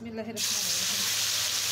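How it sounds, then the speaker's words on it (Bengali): Puti fish hit hot oil and a loud, steady sizzle of frying starts abruptly and holds, following a few softly spoken words. "আমি এখন খুব সুন্দর করে দুইবারে মাছগুলোকে ফ্রাই করে নেব।"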